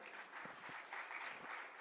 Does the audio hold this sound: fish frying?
no